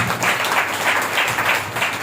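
A church congregation claps together through a worship service, a dense, steady patter of many hands with soft rhythmic surges, close and fairly loud throughout.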